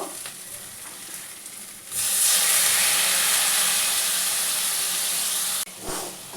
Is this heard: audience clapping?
no